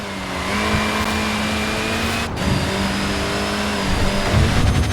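A Mini's engine revs hard and its tyres spin in Forza Horizon 4, a steady loud roar with a whining pitch that holds and then climbs, continuous and close throughout.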